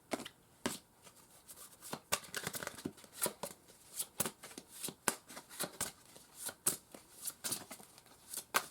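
Oracle cards are shuffled in quick, repeated riffling bursts, soft and close, with short pauses between the shuffles. No one talks.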